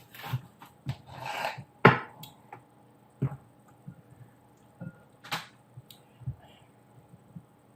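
Red onion being cut in two on a cutting board, a few sharp knife chops and thuds spaced irregularly, close and fairly quiet.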